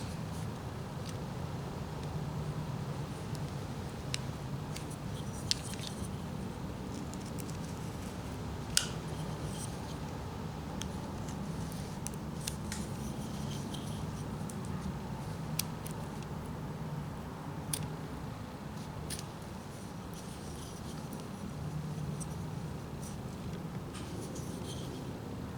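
A knife whittles a wooden pelican, carving out the wing: soft, quiet scraping and shaving strokes run steadily throughout, with a few sharper clicks, and no one speaks.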